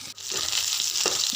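Sliced onions and a couple of green chillies fry in hot oil in a wok, a steady close sizzle filling the moment, with a few faint scrapes near the end.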